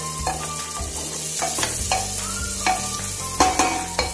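Slit green chillies drop into a hot pan of oil while cooking a spinach one-pot lunch, giving a steady close sizzle with scraping stirs and light clatters, no voices.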